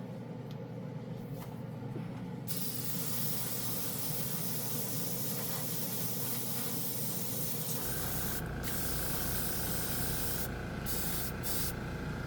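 A Dspiae no-wash airbrush spraying paint, a steady close hiss with a low motor-like hum underneath that changes tone partway through, with short breaks in the spray near the end.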